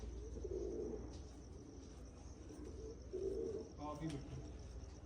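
Soft pigeon cooing comes twice from a distance, low and throaty, over faint insect chirping and a steady background hum.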